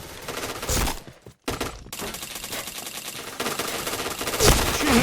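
APC9 submachine gun fire in PUBG, sustained rapid automatic bursts at close range, loud and dense, with a brief gap before the firing resumes.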